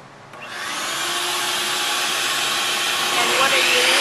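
A power tool, likely a saw, cuts segments from a piece of wood for a segmented bowl, starting with a brief quiet moment and rising to a loud, steady, sustained broadband roar that holds to the end.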